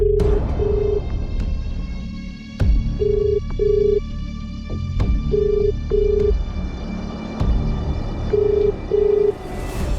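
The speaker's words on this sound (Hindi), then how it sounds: "एक बार मयूर को फोन कीजिए न" A telephone rings for an incoming call in a tense domestic crime drama scene, its repeated paired tones sounding at steady intervals over a dense bed of dramatic background music and low ambience.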